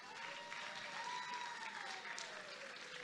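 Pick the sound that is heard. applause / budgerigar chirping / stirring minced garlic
applause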